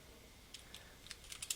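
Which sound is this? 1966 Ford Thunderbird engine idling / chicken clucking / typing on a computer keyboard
typing on a computer keyboard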